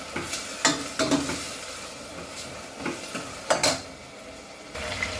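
Mango and tomatoes frying for Goan crab xacuti, a soft sizzle under repeated scraping stirs and clinks of a utensil against the pan, several distinct strokes spread across the moment.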